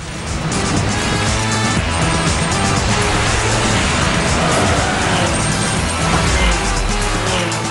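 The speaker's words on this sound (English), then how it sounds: "You get to pilot rocket cars through killer switchbacks" Rocket-powered cars race through sharp switchback turns in the kart-style racing game Rocket Car, a loud, dense wash of engine roar with occasional skid and crash noise throughout, no pauses.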